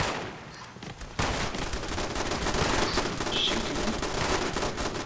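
Flatliner weapon gunfire in Fallout 76: a steady roar of rapid shots that starts abruptly after about a second and keeps going at an even, loud level to the end.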